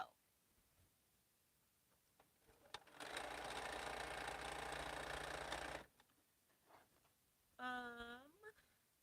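A sewing machine stitching quilt pieces runs in one steady, even burst of about three seconds, close and clear, with a voice speaking briefly afterward.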